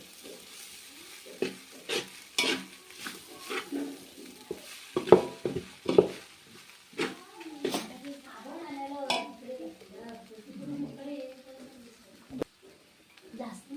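Ingredients for poha stirred and sautéed in a pan over a wood-fired stove, with irregular spoon scrapes and knocks over a soft sizzle, while someone speaks in between.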